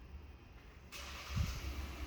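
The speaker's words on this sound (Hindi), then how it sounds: "इस तरीके से आप इंजन स्टार्ट कर पाएंगे" A Kia Seltos HTX 2022 engine starts by remote key from outside the locked car, a quiet ignition catch followed by a steady low idle rumble that settles in, heard at moderate distance with no talking.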